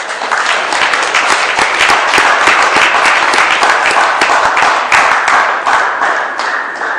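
Loud, dense clapping from a seminar audience at an NYSC camp entrepreneurship session, a sustained burst of many hands with sharp individual claps standing out, close and continuous for several seconds.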